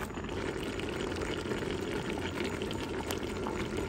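Collard greens simmer in a pot, giving off a steady, close bubbling and gentle boiling hiss that continues evenly throughout with no voices.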